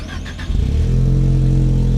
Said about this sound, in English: You're putting a Mustang engine in a Defender.